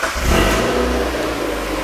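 A Mazda MX-5 donor car's engine cranks and fires up, settling into a loud, close, steady running note with a brief rev at the start.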